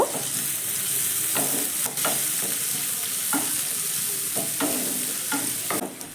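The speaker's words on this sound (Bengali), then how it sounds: "পিঁয়াজটাকে প্রথমে কিন্তু ভালো করে আমি একটু ভেজে নেব" Chopped medium-sized onions fry in a pan with a steady, close sizzle, broken by repeated scraping stirs throughout.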